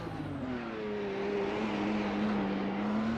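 An IndyCar racing engine at Long Beach holds a steady high whine while its pitch sinks slightly and then climbs again, loud and continuous with no voices.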